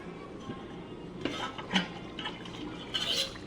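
Soft stirring and scraping of a spoon in a pot of radish gravy as finely chopped coriander leaves are mixed in, with a few light metallic clinks over a quiet simmering background.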